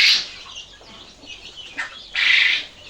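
Chicks and a hen in a backyard flock cheep and chirp in short, high bursts, one loud call at the start and a longer stronger one near the end, with quieter peeping between.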